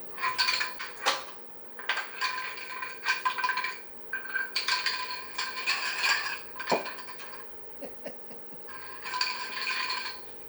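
Repeated metallic clattering and clinking as a dog pushes and knocks its metal bowl around on a hard floor, in irregular bursts.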